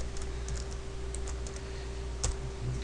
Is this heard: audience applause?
no